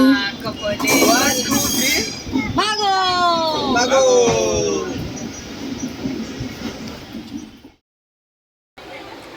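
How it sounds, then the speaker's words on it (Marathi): A train rolls in with a loud rumble and long, wavering wheel squeals, brakes screeching as it slows; voices talk nearby before a sudden silence. "बघा, आमची ट्रेनही आली फायनली"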